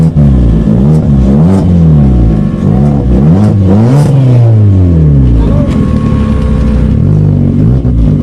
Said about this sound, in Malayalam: ഇനി നിങ്ങൾക്ക് അറിയേണ്ട ഈ വണ്ടിയുടെ സൗണ്ടാണ്.